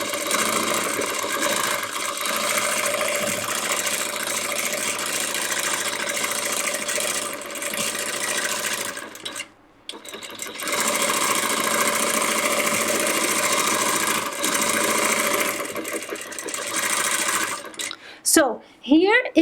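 Sewing machine stitching free motion quilting in straight lines on a quilt border, running nearly continuously with a close, steady motor whir and rapid needle vibration, one brief pause midway and fabric handling noises at the end.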